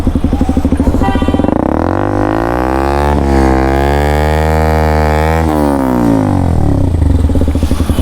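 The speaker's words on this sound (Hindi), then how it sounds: "तो ये वाला एग्जॉस्ट हमने बाइक में इंस्टॉल करवाया है, काफ़ी अच्छा एग्जॉस्ट है।" A KTM RC 125 motorcycle fitted with an aftermarket exhaust is revved hard and close, its loud buzzing note climbing and falling repeatedly with a rough, rapid pulse.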